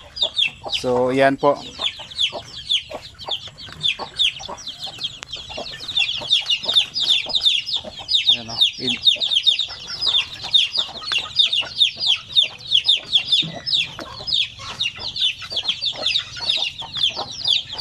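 One-month-old chickens, fed rice mixed with organic feed, cluck and peep steadily in a crowded pen, a dense chorus of close, overlapping calls throughout, with someone speaking briefly at the start.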